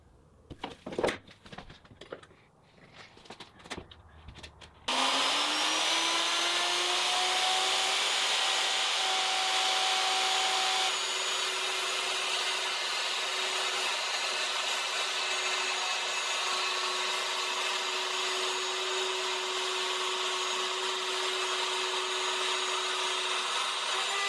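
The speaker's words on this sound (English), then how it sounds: "using a straight edge and a router, I trimmed it to length" Router trimming a wooden torsion box panel to length along a straight edge; a few knocks and handling sounds, then the motor spins up into a loud, steady high whine that continues throughout.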